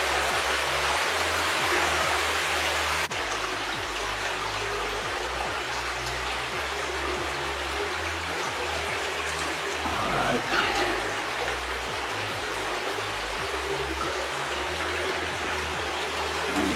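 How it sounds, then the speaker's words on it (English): Water runs steadily through an old slope mine toward a flooded section, a constant low rushing hiss that stays even and fairly faint throughout, with someone talking quietly over it. "So that's where that water's heading, right down into the flooded section."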